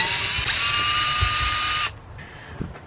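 A power screwdriver with a Phillips bit backs out screws from the back of a steering wheel on an SS Wagon, a steady high whine that runs for nearly two seconds then cuts off, close up, followed by faint handling clicks.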